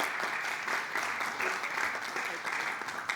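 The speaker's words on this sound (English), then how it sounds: "Please give them a round of applause" An audience at a launch event applauds the panelists with sustained, even clapping from many hands, filling the room at a steady level throughout.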